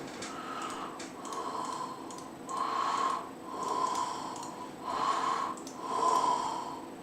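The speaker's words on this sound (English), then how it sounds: "I'm breathing heavy because it's something that has to do with my health conditions" Heavy, labored breathing close to a microphone from someone with a health condition, coming in slow, regular swelling breaths with a wheezy, snorting edge over a steady background hum.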